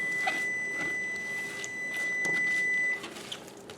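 A steady electronic tone from a kitchen oven signalling that it has finished preheating holds for about three seconds and then stops abruptly. Quieter kitchen background sounds sit beneath it.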